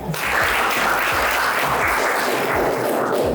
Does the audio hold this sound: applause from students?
yes